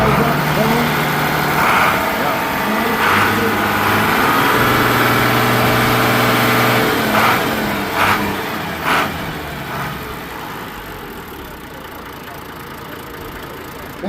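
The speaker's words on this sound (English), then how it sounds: "So fired right up. I mean, it starts better than a lot of my gas tractors." A rare International 786 FWA tractor engine idles with a steady low diesel rumble, loud and close, and the throb eases off slightly toward the end while people talk nearby.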